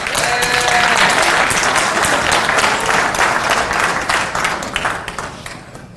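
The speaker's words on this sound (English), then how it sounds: "A 1 whistle and 2 claps." An audience at a talk on dating techniques bursts into loud, dense applause with scattered whistles, the clapping holding strong before thinning out and fading over the final seconds.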